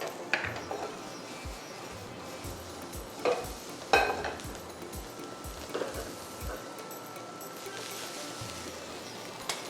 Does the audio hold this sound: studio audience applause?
no